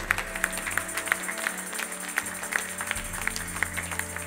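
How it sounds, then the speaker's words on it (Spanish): A church congregation applauds during a Spanish-language sermon, sparse, irregular claps heard from a moderate distance over a steady electronic hum and low droning tones from the sound system. "Dele un aplauso al Señor con todo su corazón"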